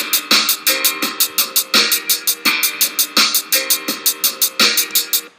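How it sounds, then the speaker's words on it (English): A basic programmed drum beat in a steady pattern: even, bright hi-hat ticks run continuously, with punchy kick and snare hits falling on a regular rhythm. It is loud and clean, and nobody talks. "So this basic drum beat that we're starting with here sounds like this."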